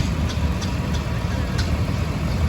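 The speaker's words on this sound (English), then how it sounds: "This tractor is a Lish" A vintage Lish tractor idles in a parade with a steady, low engine drone and faint periodic ticks across a short stretch.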